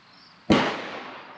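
A single loud rifle shot from a Mosin Nagant fitted with an Archangel stock, an abrupt sharp crack followed by a long decaying outdoor echo, with no voices.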